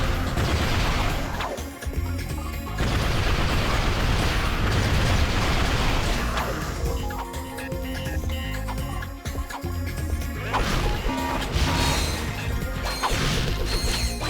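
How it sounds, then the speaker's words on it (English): A slot machine whirs and clatters mechanically in the Ratchet and Clank 2 video game, in the Maktar Nebula, amid dense, loud game audio with repeated crashes, pops and ratcheting clicks over about fourteen seconds. "So here's the other slot machines I mentioned."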